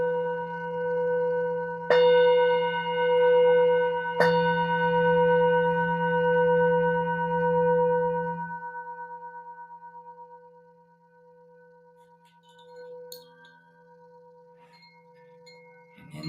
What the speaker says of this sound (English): And as I ring the bells, the bowls, see what it takes to breathe into this moment.